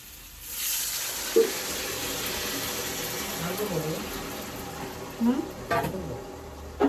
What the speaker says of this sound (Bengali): ভালো করে ভেজে নিয়েছি, এখন চলো জল দিয়ে দিই।